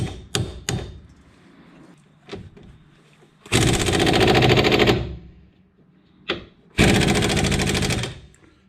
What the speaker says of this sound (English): you have to work it back and forth with an impact gun